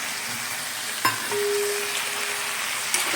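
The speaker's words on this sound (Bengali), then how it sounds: "চিংড়ি মাছ আর বড়িটা দিয়ে দিলাম।" Fried shrimp and bori land in a hot pan, giving a steady, close, loud sizzle with a clack of utensils at the moment they go in and a few stirring scrapes afterward.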